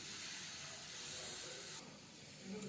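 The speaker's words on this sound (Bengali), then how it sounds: "জল দিয়ে দিলাম।" Water poured into a hot cooking pot while preparing pointed gourd paste sets off a steady, close broadband hiss of steam that shifts and thins partway through; no talking.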